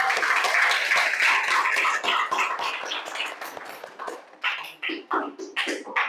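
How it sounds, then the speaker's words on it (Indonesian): An audience at an Indonesian talk breaks into applause on request. It starts as a brief burst of clapping, then thins into scattered individual claps that fade out. "Tepuk tangan dulu"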